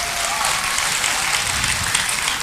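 A studio audience at a reality television elimination show claps for the contestants, a moderate, continuous patter of applause filling the room with no voices on top.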